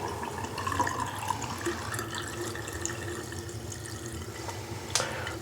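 Water runs steadily from a single-handle Moen lavatory sink faucet on city water as the supply slowly shuts off, a continuous close hiss and trickle with a brief splash near the end.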